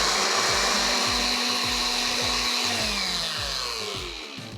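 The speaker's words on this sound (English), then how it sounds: "For this one, I'm just gonna pulse and make it into a smoothie." A blender pulses pineapple, honey and lime into a smoothie, its motor running loudly with a rhythmic chopping churn that slows slightly toward the end.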